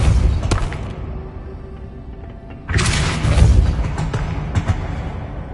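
Depulso force spell cast in the video game Hogwarts Legacy, a deep booming thump followed by a louder rushing blast that swells and lingers with scattered impacts over a low rumble, no speech.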